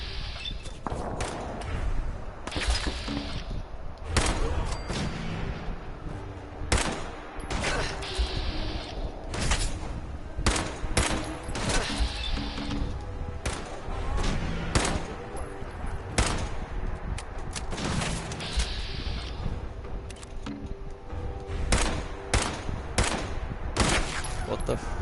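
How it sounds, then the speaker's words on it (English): Rapid gunfire in a video game, loud and close, with clustered bursts and single shots cracking steadily over game noise, while someone talks at times between the shots. "Now that is a gun to hit shots with."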